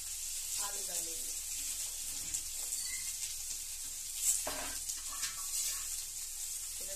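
Boiled potatoes drop into a hot frying pan and sizzle, a steady bright hiss of frying with a few soft scraping stirs and a brief louder burst midway, close and fairly loud throughout.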